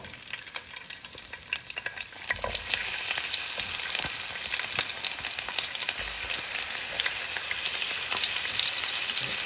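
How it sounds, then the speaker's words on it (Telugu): Grated onions and tomatoes frying in hot oil in a pan, a dense continuous sizzle that grows louder after a couple of seconds, with occasional stirring scrapes and pops. "మనం తురుముకున్న ఆనియన్స్ టొమాటోస్ ఇందులో లైట్గా వేపుకోవాలన్నమాట"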